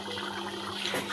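Hot water poured into a pot of Bengali mutton curry with boiled potatoes, a steady splashing pour of liquid lasting just over a second, with a brighter gush near the end.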